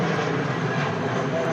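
A Scandinavian airliner rotates and takes off at Manchester Airport on a windy day, its engines producing a loud, close, sustained roar that fills the short stretch without a break.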